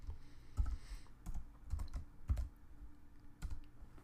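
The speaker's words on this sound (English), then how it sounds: "So I'm just going to type a couple characters." Keys tapped on a computer keyboard while entering a password-style string of letters, numbers and symbols, a handful of quiet, unevenly spaced clicks and thumps close by.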